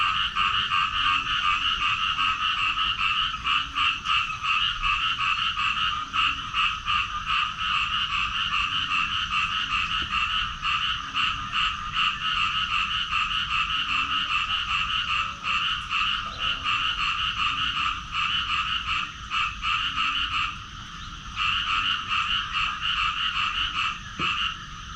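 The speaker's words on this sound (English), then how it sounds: "If you can hear me with the sounds of the frogs" Dense chorus of frogs croaks steadily at dawn in Rayong, Thailand, a continuous pulsing wall of calls with a low rhythmic croak underneath, briefly dipping once before resuming.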